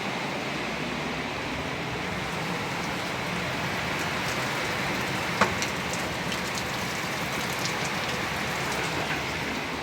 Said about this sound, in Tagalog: Basta ulan eh.